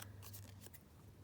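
Scissors snip through fabric scraps in a quick, faint burst of a few close crisp cuts at very low volume.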